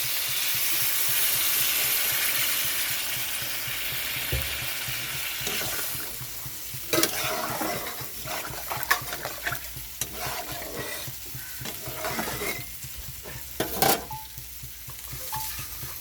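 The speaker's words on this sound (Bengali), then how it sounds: "এখন আমি এখানে জল দিয়ে দিচ্ছি" Water poured into fish curry masala frying in a pan: loud hissing sizzle at first, then settling into bubbling with repeated scrapes and clanks of a spoon stirring, close and without talk.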